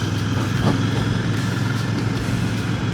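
A Royal Enfield Bear 650 motorcycle is ridden along, its engine running as a steady, fairly loud drone with road and wind rumble throughout and no talk.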